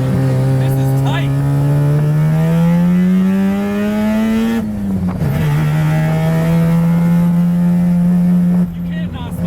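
Engine revving loudly and steadily while driving, a sustained low tone climbing in pitch then dropping briefly before holding again, heard alone and close.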